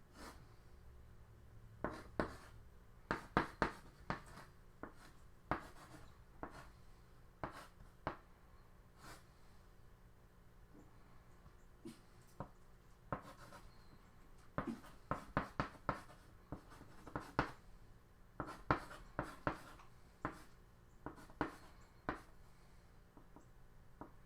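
Pen strokes write out a noun phrase tree diagram by hand, a quiet series of sharp scratching taps and short scribbles in uneven bursts with pauses between groups, close and clear with no talking.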